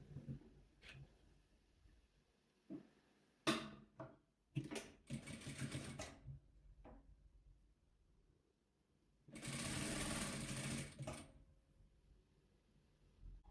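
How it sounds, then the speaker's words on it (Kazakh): A sewing machine stitches blue and white fabric strips together for a checkerboard patchwork quilt, with short stop-start bursts of stitching and one longer steady run, close and clear with no talk. "Біз ең бірінші көк пен ақ полоскаларымызды өстіп бір-біріне қосып тігіп аламыз."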